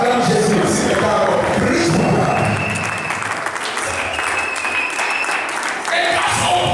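A church congregation claps and cheers for Jesus during a sermon, with loud, sustained applause and crowd voices throughout.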